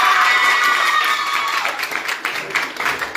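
A school audience applauds prize winners at a competition ceremony, dense clapping with some cheering and children's shouts, loud and sustained before gradually thinning out.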